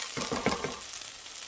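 Brown rice and oats being stir-fried in a dry pan, a brief burst of scraping, rattling stir strokes with a soft sizzle that fades within a second and a half.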